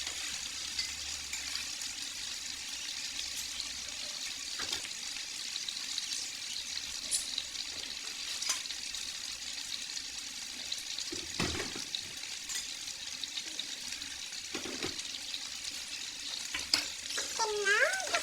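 Potatoes fry in a pan with chicken fillets and mixed vegetables, giving a steady hiss and sizzle throughout, broken by occasional scraping stirs and clinks near the end.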